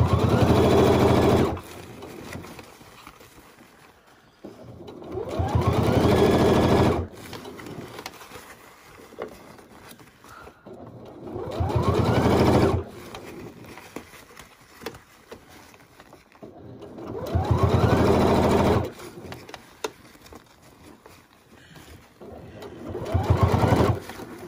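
A sewing machine stitches fabric for a tote bag in four loud, steady bursts of rapid needle chatter a few seconds each, separated by quiet pauses while the work is repositioned.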